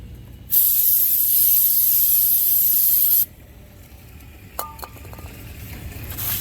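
A loud aerosol can of brake cleaner hisses continuously for about three seconds onto the wheel hub of a 2012 Chrysler 300 5.7L, then stops, followed by a few light metallic clinks and faint rubbing.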